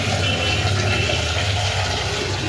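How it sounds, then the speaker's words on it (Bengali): Water is poured into a cooking pot while making semolina khichuri, a steady continuous gushing splash that holds throughout at a fairly loud, even level. "এবার জলটা দিয়ে দেবো, আরও বেশি করে জল দিয়ে দেবো।"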